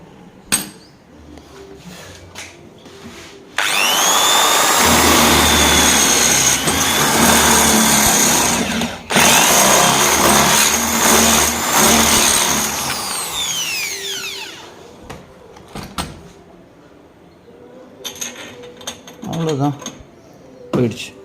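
A power drill fitted with a larger bit drives a bolt while a windshield bar is mounted on a Mahindra Thar. It gives a loud, sustained whirring whine of about ten seconds with a brief break midway, framed by quieter clicks and handling noises.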